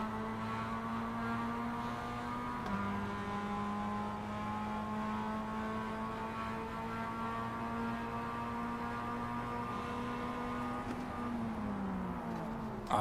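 Mazda MX-5 Cup race car engine heard onboard in the iRacing sim, a steady loud drone that holds one pitch and then drops slightly near the end, with no talk over it.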